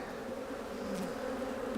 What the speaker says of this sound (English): There's too many bees in here.